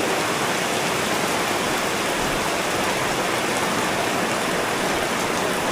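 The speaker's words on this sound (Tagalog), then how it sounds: "At umulan na nga. At lumakas pa nga." Heavy rain pours down in Mindanao as a dense, loud, unbroken hiss that holds steady throughout with no other sounds.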